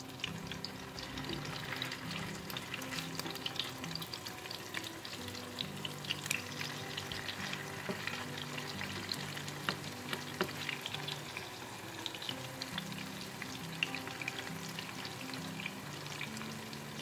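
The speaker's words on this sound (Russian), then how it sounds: "начинаем жарить ландорики на раскаленную сковородку" Liver and chicken patties fry in a hot pan, giving a continuous crackling sizzle with scattered spatter pops and occasional utensil scrapes, close and moderately quiet, with no voices.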